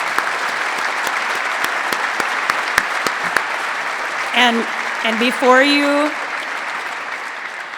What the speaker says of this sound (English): Let's give a round of applause to these amazing folks.